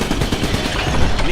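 Shotgun fire in Iron Brigade comes as loud, rapid blasts in a dense burst, with a voice shouting over the shots.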